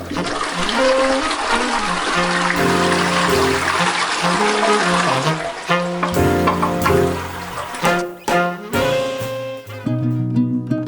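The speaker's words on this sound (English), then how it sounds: "Flush it again there." A toilet flushes loudly and close, a rushing swirl of water that surges and gurgles for several seconds and then fades, with music playing over it.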